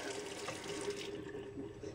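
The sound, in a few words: tap water running while rinsing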